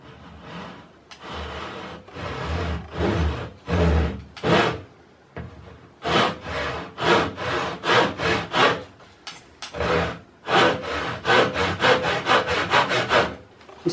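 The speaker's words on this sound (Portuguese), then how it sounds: "com o serrote você faria na primeira vez" Hand saw cutting through wood at a 45-degree angle, close and loud, with a steady series of rhythmic back-and-forth strokes that pause briefly, then resume faster and more regular; no talking.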